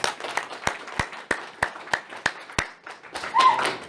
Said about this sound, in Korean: 뜨거운 박수 한 번 더 부탁드립니다.